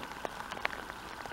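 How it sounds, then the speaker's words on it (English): Steady rain falls on Big Lake near Ely, Minnesota, on a warm morning, a soft continuous patter of drops with a few sharper splashes close by, no voices. "Rainy."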